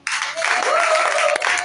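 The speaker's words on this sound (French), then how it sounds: "Quelqu'un peut célébrer la puissance transformatrice de Jésus par des acclamations." A church congregation breaks into applause and cheering, a dense burst of clapping and raised voices that swells quickly and holds steady for under two seconds.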